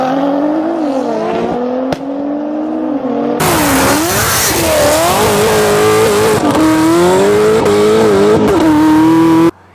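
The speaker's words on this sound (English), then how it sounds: "This is an Audi S4" An Audi B5 S4 with 200,000 miles on it revs and accelerates hard, its engine note climbing and dropping through repeated loud, close pulls with brief gear-change dips.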